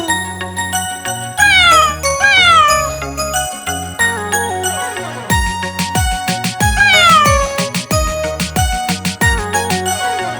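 A children's Hindi nursery rhyme about a cat, with a steady beat, bright melodic instruments and repeated meow-like vocal calls imitating a cat, loud and continuous.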